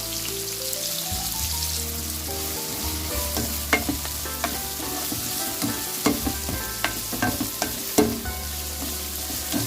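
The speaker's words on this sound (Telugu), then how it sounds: "ఆయిల్ కూడా వేడెక్కిన తర్వాత ఉల్లిపాయలు అలాగే పచ్చిమిరపకాయలు" Onions and green chillies frying in hot oil for a snail curry, giving a dense steady sizzle with scattered sharp crackles and occasional stirring clinks, close and fairly loud.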